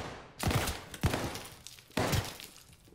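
Video game gunfire erupts around a hardpoint during ranked multiplayer play in three sharp, loud bursts, each fading into a rattling tail.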